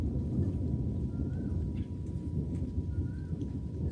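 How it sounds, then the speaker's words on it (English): Deep thunder rumbles on and off beneath the steady hiss of rain, with faint bird calls scattered through the storm and no voices. "Wow, can you hear that thunder?"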